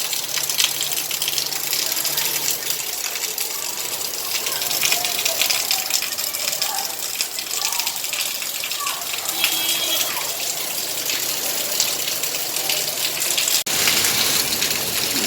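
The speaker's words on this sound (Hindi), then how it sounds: "बहुत तूफ़ानी बारिश हो रही है" Heavy stormy rain pours and gushes continuously under a fully overcast sky, a dense, loud wash of water that holds for the whole stretch, with a brief sharp change near the end.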